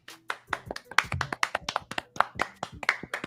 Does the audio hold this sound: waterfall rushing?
no